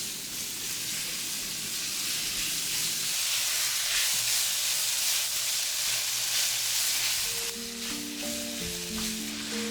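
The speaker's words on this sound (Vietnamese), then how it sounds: "Xào với lửa vừa ha các bạn." Snails stir-fried in a pan with curry spices over medium heat give a steady, loud sizzle and hiss with scraping stir sounds, no voices.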